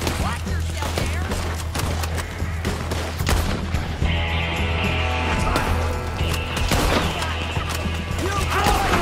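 Shootout gunfire in Red Dead Redemption 2, rapid cracking shots and thuds scattered throughout over a low engine-like drone, with shouting voices in between.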